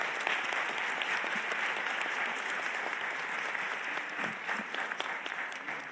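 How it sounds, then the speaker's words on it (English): Sustained audience applause at a UN refugee agency progress review panel in Geneva, a dense, steady wash of many hands clapping throughout, loud and even with no speech over it. "To give a big applause to my co-panelists."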